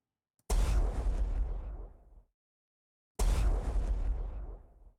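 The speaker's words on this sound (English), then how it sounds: "that's going to be my explosion for if the player hits an asteroid" A player-ship explosion effect from an Asteroids-style game made in GameMaker sounds twice, each a sharp noisy blast that decays over about two seconds, with silence between.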